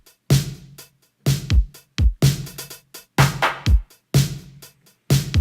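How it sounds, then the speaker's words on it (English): Stock Lindrum drum machine kit samples in Battery, a punchy beat of kick, snare and hi-hat hits in a steady looping pattern, dry and close with no voices. "this is the stock Lindrum kit from Battery"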